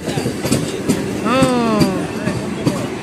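A Vande Bharat Express train passes close by with a steady rolling rumble and a rising, bending tonal wail partway through; faint voices mix in.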